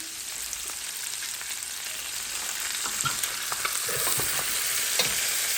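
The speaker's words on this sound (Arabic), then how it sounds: "غادي نقليوه شويه" Food sizzles and fries steadily in a pan for a traditional Moroccan dish from Rabat, a dense crackling hiss with small pops, growing slightly louder toward the end, with no voices.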